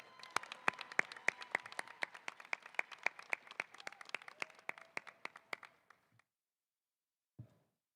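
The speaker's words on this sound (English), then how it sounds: "Let's have one more round of applause" Applause from a commencement crowd honoring a community college concert choir, performed outdoors at a baseball field; sharp distinct claps in a fairly sparse rhythm stop abruptly near six seconds, then a soft bump and silence.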